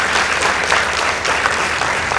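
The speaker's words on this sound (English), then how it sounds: "Please give them a round of applause." Steady, dense applause from a crowd at a high school competition, loud and sustained throughout without pause.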